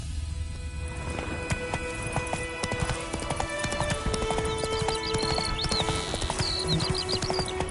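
Horse trotting in The Witcher 3 game, its hooves tapping out a steady, even clip-clop over a constant bed of game ambience, with a faint snort or whinny near the end.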